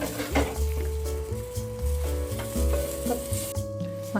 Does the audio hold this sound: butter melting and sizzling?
yes